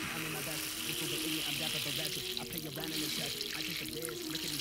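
Water is poured onto the substrate of a tarantula enclosure for a Greenbottle Blue (Chromatopelma cyaneopubescens), a steady trickling splash running the whole time under music with singing.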